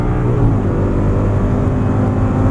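An Audi R8 engine on a racetrack pulls loud and close after an upshift, holding a steady, dense roar with strong low harmonics for the whole stretch and no talking.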